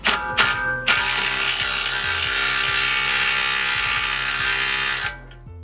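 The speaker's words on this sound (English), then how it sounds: "If it can't go anymore, I hope this Makita gun will work." A Makita impact gun drives a lug nut on a wheel stud: a loud, close rapid hammering rattle that starts with a couple of short bursts, then runs continuously for about four seconds before stopping.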